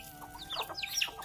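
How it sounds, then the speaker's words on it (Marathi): Chickens cluck in a short run of quick, close calls, several birds overlapping at moderate volume with no talk over them. "तांदूळ बिंदूळ घेऊन आता कोंबडी धरूची आहे"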